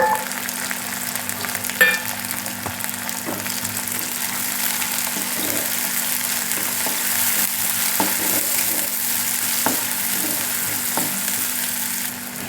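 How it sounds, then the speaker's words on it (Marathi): Onion and tomato sizzle steadily in hot oil for a capsicum curry, a continuous close frying hiss with a few soft spoon scrapes against the pan and no talking. "टॅमॅटो पण फ्राय झाला आपला."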